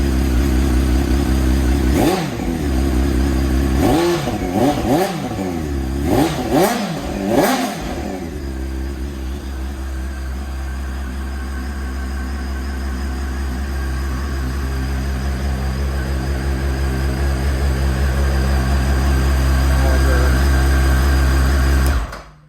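A Honda CBR929RR Fireblade motorcycle engine blips through several sharp revs early on, then settles into a steady, rough idle that runs on close by.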